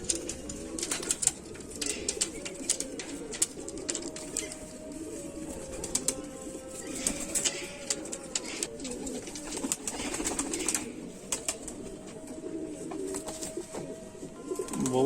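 Kamagar pigeons coo steadily and softly in a loft, overlapping calls repeating with faint wing flutters, no voices present.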